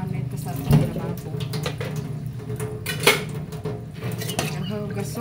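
Pots and dishes being washed in a kitchen sink: metallic clanks and scraping of cookware over running water, with a couple of louder knocks, close by, and some faint talk mixed in.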